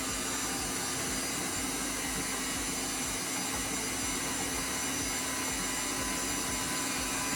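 An electric mixer whirs steadily at high speed through cookie dough of creamed butter, sugar and egg, a dense continuous motor roar filling the whole clip without pause, loud and close.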